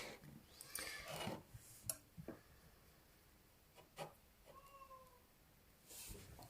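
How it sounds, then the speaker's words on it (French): A cat meows several times, a few drawn-out tonal cries spaced apart, with light rustling and handling noises in a quiet room. "Désolée si vous entendez bien mon chat miauler."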